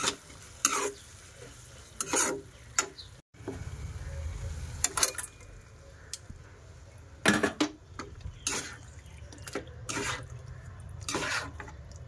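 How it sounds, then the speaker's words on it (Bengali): Marinated mutton goes into a sizzling spiced masala in a pan: a low continuous sizzle broken by repeated sharp scrapes and clinks of stirring, close and moderately loud, with no talking. "এখন এর মধ্যে আমি ম্যারিনেট করে রাখা মাটনটা দিয়ে দেবো।"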